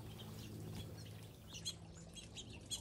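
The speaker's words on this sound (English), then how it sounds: "The birds are here all day." Birds calling in a vegetable garden with container-grown zucchini, kale and collards, giving a few soft chirps and squawks over a low steady background hum, faint and somewhat distant.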